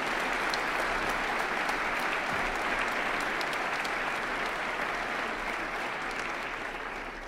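A large audience at a State of the City speech applauds steadily, a dense sustained wash of clapping that holds at full strength throughout.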